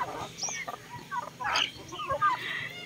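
Backyard chickens cluck and murmur close by in short, scattered bursts, a few sharper squawk-like calls among them, fairly quiet overall.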